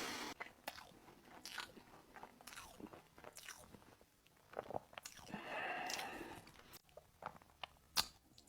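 Close crisp bites and crunchy chewing on fried Algerian traditional pastry, several sharp crunches spread across the clip with a louder chewing stretch midway, no talking.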